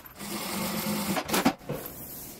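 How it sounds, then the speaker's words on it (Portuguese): Sewing machine running a seam along the edge to fasten synthetic leather to the lining of a small toiletry kit, a steady close mechanical whir for about a second before a few louder stitching bursts and a pause. "E aí aqui eu vou passar uma costura na beiradinha só para prender o sintético no forro."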